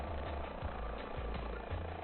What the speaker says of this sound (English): We are flying the world tour in the H145. It's an Airbus helicopter for Microsoft Flight Simulator 2020.